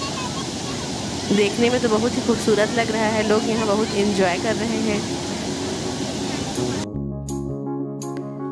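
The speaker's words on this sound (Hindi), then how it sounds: "यह केलो नदी पे इससे एक छोटा सा बांध है, जहाँ पानी झरने के रूप में गिर रहा है।" Steady broadband roar of water falling over a small dam on the Kelo river at Panchdhari waterfall in Raigarh, Chhattisgarh, loud and continuous under a voice talking, then cut off abruptly by music at the end.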